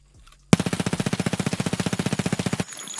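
An MP9 submachine gun in Escape from Tarkov fires one loud, rapid burst of about two seconds, shots packed tightly in a fast even rhythm, then cuts off into a quiet tail.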